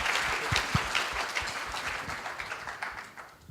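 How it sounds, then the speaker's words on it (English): Audience at a youth leaders summit ceremony applauding after team presentations, a dense burst of clapping that starts strong and gradually thins out and fades toward the end. "Let's give another round of applause."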